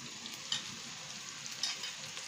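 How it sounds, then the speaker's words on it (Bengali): Boiled vegetables for fried rice fry in a pan with a soft, steady sizzle, while a few faint scrapes and clinks of stirring come through; the sound is quiet and close, with no talk. "সিদ্ধ করাই আছে সবজিটা, তারপরে একটু ভেজে নিচ্ছে"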